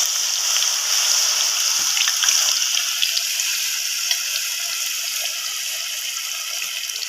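Fish coated in gram flour batter frying in hot ghee gives a steady, even sizzle and crackle that holds throughout, fairly close and with no voices.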